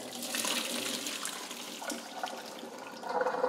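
Cold tap water runs over drained chickpeas in a kitchen strainer, a steady splashing stream that holds fairly loud for several seconds, with a few shifts in tone as the water hits the legumes and metal.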